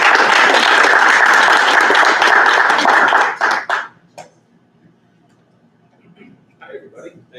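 An audience gives a speaker a round of applause at an LNC meeting, loud, dense clapping for about three and a half seconds that thins into a few scattered claps, followed by a near voice speaking.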